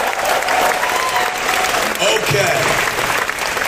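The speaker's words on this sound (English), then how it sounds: "Give them a round of applause, folks." Loud, sustained applause from a large convention audience in San Diego Comic-Con's Hall H, a dense wash of clapping filling the whole clip with a brief spoken word over it.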